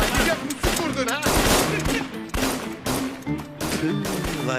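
Rapid bursts of loud gunfire fill a Turkish TV drama scene, with dense volleys of close shots repeating in quick succession throughout, broken only by brief gaps.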